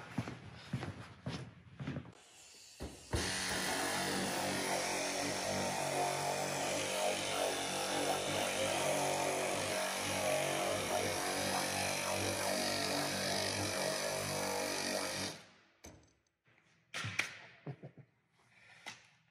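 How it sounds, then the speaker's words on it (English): A power sander whines steadily for about twelve seconds on carbon fiber and Kevlar, loud and close, with shuffling and handling noises before it starts and after it stops. "been sanding for a few hours"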